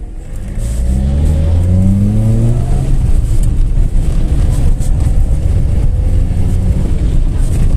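A VAZ 2108 with a 1.3 engine and a tuned Solex 22/23 carburetor idles, then revs up as it accelerates. The engine note climbs loud and close before settling into a steady, dense roar of driving.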